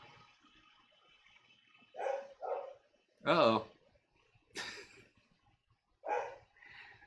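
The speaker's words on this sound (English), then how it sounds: "she's just going to bark now" A dog barks several times in short separate yips and woofs, close by, with a brief spoken remark between the barks.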